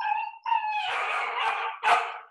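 A dog lets out a loud run of barks and howls, starting with tonal howling and breaking into rough barks, close and alone with no talk, heard during a church sermon.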